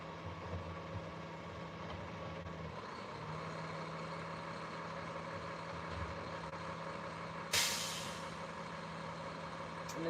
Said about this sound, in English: I'm going to turn off the sound for a few minutes so that you don't have to hear the big truck.